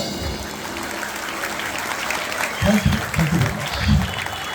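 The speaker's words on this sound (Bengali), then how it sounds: "তো জোরে একটা হাততালি হয়ে যাক সবাই।" An audience at a magic show claps. Scattered applause swells into several loud bursts toward the end, and a voice is audible beneath the clapping.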